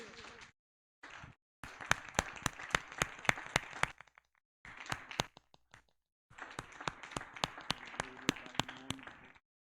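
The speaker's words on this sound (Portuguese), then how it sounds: "E vamos aplaudir ao Senhor." A church congregation claps together in strong, rhythmic bursts of sharp hand claps, pausing briefly between rounds before starting again, moderately distant and with no clear talk over it.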